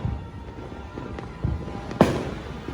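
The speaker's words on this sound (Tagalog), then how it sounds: "Fireworks, let's go!" New Year fireworks go off outdoors, with about three separate booming bursts spread over a few seconds. The last is loudest, and all sit above a constant crowd and street din.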